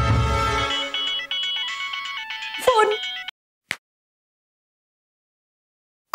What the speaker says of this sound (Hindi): मैं अभी सूर्या को फोन लगाता हूँ